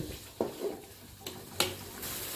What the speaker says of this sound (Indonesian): Tumis bumbu sampai matang dan harum.